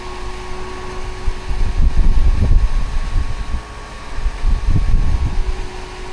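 A jet blower fan runs inside a Suzuki mini van as a constant whirring drone with a steady hum, swelling louder in two surges of rushing air.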